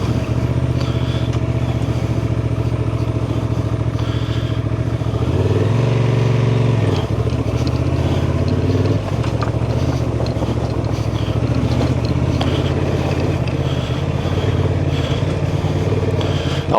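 A 2024 Honda Transalp 750 motorcycle ridden off-road on a trail, its engine droning loudly and continuously, rising briefly in a harder pull midway, with wind rumble over the whole run.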